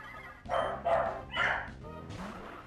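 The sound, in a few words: dog barking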